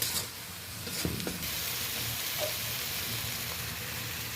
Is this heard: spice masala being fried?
yes